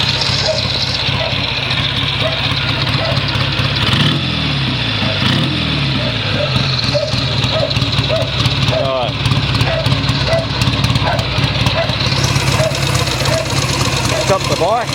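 A 1950s AJS 500 twin M20 motorcycle engine runs steadily nearby, its loud, even idle chugging throughout under occasional talk.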